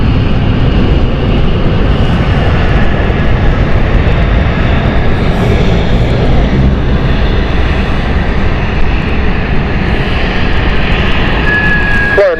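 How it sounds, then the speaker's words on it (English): Jet airliner at London City Airport, a loud steady engine roar that fills the whole stretch without letting up, with no speech over it. "It's a beautiful jet, isn't it, Bruce?"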